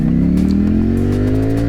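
A 2022 Ducati Streetfighter V4 SP motorcycle in race mode accelerates hard, its loud close engine note climbing steadily in pitch through a single sustained pull.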